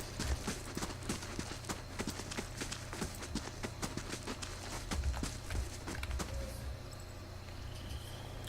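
Horse hooves clip-clop in a quick, steady rhythm over a low ambient hum in the fantasy role-playing game Pillars of Eternity, several overlapping hoofbeats close by, fading slightly near the end.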